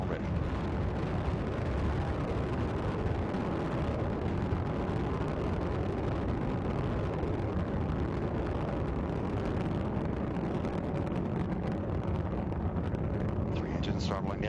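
Space Shuttle Endeavour's rocket engines roar during ascent from Kennedy Space Center on mission STS-126, a loud, dense, continuous rumble filling the whole clip with no break.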